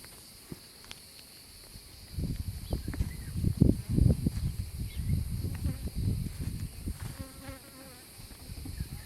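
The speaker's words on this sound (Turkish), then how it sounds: "Bu arı bu senenin oğlu." Bees buzz steadily close by, a dense humming drone that swells after a quiet start and continues throughout.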